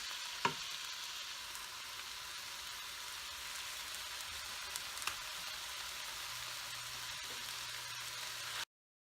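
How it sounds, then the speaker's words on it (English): Organic vegetable broth poured over vegetables cooking in a pot for a butternut squash and sweet potato dish, a steady broad sizzle and wash of liquid running throughout, with a brief knock near the start and no talking. "So the next thing to do is to add the stock"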